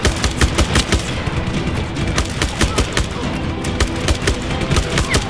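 Nearly continuous gunfire in Just Cause 3, rapid sharp shots packed into dense volleys with heavy low thumps underneath, loud and close throughout.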